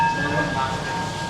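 A train at Mahachai railway station in Thailand, a steady low rumble with a faint tonal hum, heard close and continuous with no talk over it.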